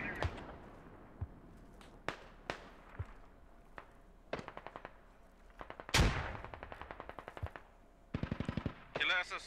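Rapid bursts of automatic gunfire and single gunshots in the military shooter game Squad, sharp cracks spread through the scene with a dense volley near the end, over faint background rumble.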